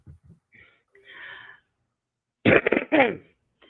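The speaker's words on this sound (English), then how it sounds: "Oh God, what a time to cough." A close, harsh cough burst after some quiet breathy sounds, with a short second hack following.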